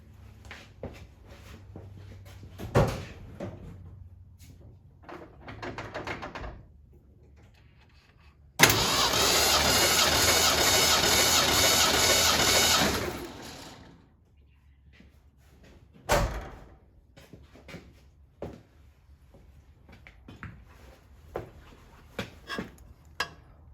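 A truck's turbo 300 inline-six cranks over during a compression test, a steady churning roar of about five seconds that starts abruptly, set among scattered knocks, clunks and shuffling sounds in a garage.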